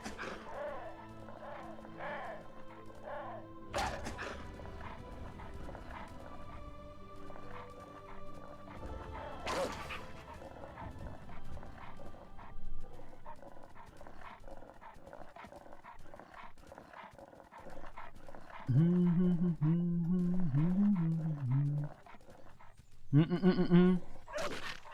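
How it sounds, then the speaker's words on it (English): A dog in the video game Enderal: Forgotten Stories makes repeated whimpering, yelping cries between thuds and crashes, louder bursts near the end, with soft talk now and then. "It just sounds like the dog is suffering."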